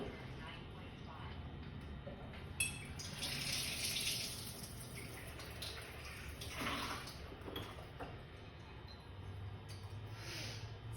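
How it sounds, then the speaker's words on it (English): Kangen water pours from a home water ionizer machine into a container in a soft, steady rushing stream that swells midway and then tapers. Faint background sounds sit beneath it. "So I'm gonna get a little bit more Kangan water here and I'm gonna put it back on the machine."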